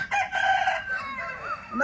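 An Aseel rooster lets out one loud, near crow that rises and then trails off, with a second call starting at the very end.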